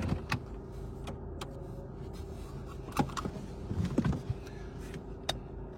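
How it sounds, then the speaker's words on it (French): A car is being parked: a steady low engine rumble runs throughout, broken by several sharp close clicks and knocks from the vehicle, with no talking. "je vais garer ma voiture."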